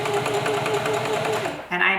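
A sewing machine runs in a fast, even stitching rhythm as fabric is fed along the presser foot, close and fairly loud, stopping near the end of the clip.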